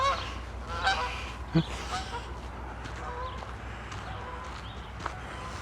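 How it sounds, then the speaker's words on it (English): Geese honk in scattered calls outdoors along a street in Regina in late March, moderately distant over steady background noise. "Well, except geese."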